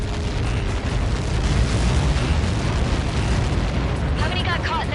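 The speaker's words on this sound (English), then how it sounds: "How many got caught in that explosion?" A massive explosion in the video game Ace Combat 7 roars as a dense, sustained rumbling blast filling the whole clip, loud and close, with radio chatter briefly surfacing near the end.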